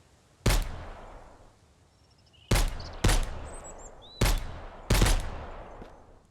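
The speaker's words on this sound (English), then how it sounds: "Now, when I fire my rifle, all hell's going to break loose down here." Five sharp rifle shots in the survival game Mist Survival, spaced irregularly with ringing decay after each, loud against a quiet outdoor background with faint bird chirps.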